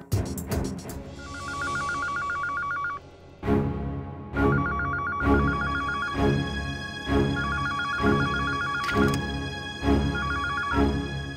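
A telephone rings in a Hindi TV serial household scene, its bright electronic bell pattern repeating in steady bursts for several cycles, fairly loud with no voices over it.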